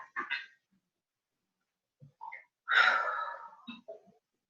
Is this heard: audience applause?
no